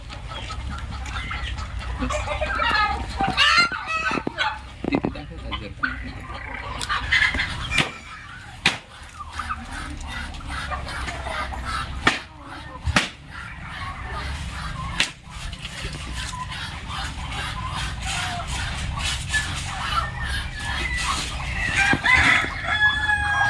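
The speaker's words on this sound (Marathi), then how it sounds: "बघा असे जातीचा कोंबडा आहे." A rooster crows repeatedly on a poultry farm while chickens cluck around it. Sharp snapping noises cut in now and then, and the birds sound fairly close against a low background hum.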